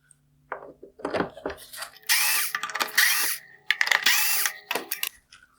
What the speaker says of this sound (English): Next, I'll remove the three T20 screws holding on this bottom mount.